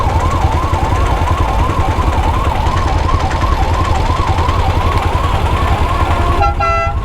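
An ambulance siren wails loud and close behind a traffic jam on a road, rising and falling steadily over the rumble of idling vehicles before cutting off near the end.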